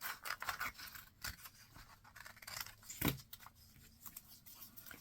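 Scissors cut through paper close by, with crisp snips and scraping slices in an irregular rhythm and a sharper louder cut in the middle, with no talking.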